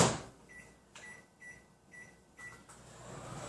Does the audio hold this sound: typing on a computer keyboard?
no